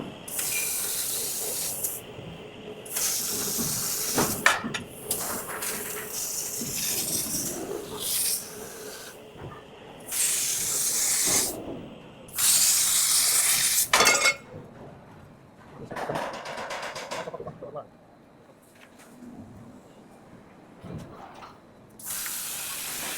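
An enclosed Hongniu three-chuck pipe laser cutting machine runs in bursts of loud hissing, spraying gas blast with pauses in between, along with occasional clinks and mechanical knocks, heard close with no talking.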